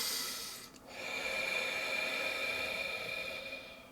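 A deep, slow exhale during a guided energy meditation sounds as a close, soft, airy rush of breath that swells after a brief dip and fades gently, with no talking.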